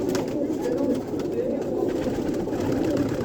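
Teddy pigeons in a large backyard loft give a steady, dense cooing that carries on without a break, close and fairly loud, while faint human voices murmur underneath.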